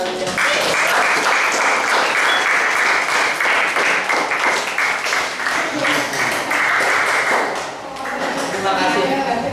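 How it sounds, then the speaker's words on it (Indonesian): Eighth-grade students in a math classroom break into loud, fast applause for about eight seconds, a dense close clatter of many hands that briefly dips before picking up again. "Tepuk tangan buat kalian."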